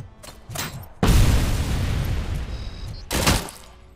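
In the RoboCop: Rogue City video game, a shot grenade goes off in a sudden heavy boom that rumbles out for about two seconds, with a second sharp blast near the end and scattered gunfire before it.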